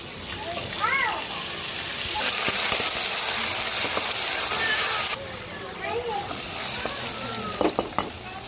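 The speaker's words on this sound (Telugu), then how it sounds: "టమాటా పేస్ట్ కూడా మొత్తం పోసేసుకున్నాం బాగా మధ్యాహ్నం వరకు బాగా ఫ్రై అయ్యేంత వరకు అయితే బాగా ఫ్రై చేసేసుకోవాలి" Onion, green chilli, curry leaves and ginger-garlic paste fry with tomato paste in a pan, hissing in a loud steady sizzle with intermittent stirring scrapes, while someone talks over it.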